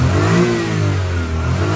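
A Suzuki Alto car converted to a 660cc engine revs steadily and loudly close by, the pitch rising and then holding in a continuous mid-range drone with no talking.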